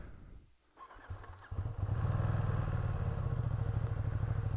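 A Ducati Streetfighter V2's 955cc 90-degree V-twin engine cranks briefly, then fires up and settles into a loud, steady, throbbing idle close by.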